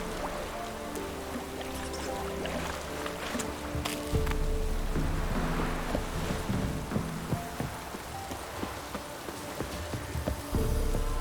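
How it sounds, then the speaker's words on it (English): Heavy rain pours down in The Witcher 3, a steady dense hiss of a downpour with low rumbling beneath, holding at an even level throughout with a few brief sharper spikes. "Proper downpour this is."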